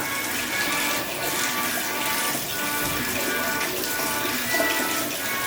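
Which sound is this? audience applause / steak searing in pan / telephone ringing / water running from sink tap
water running from sink tap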